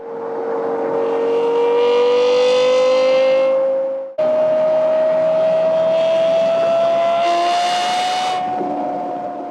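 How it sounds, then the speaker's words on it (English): A Lexus LFA V10 howls loud and close, its pitch climbing steadily through a long run, breaking briefly near the middle and then screaming on through another sustained, rising rev with a sharp high-pitched edge toward the end. "it is one of the most unique sounding V10s out there because it just howls at you, it screams"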